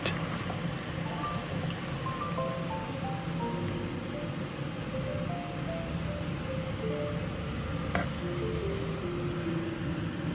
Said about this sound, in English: Next, bring in the soaked egusi and fry on low heat.